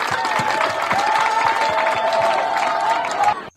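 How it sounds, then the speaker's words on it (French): An audience at an official school kit distribution launch claps for the partner agency Enabel, a dense burst of applause mixed with crowd murmur and a sustained tone, ending abruptly. "Applaudissez Enabel d'abord."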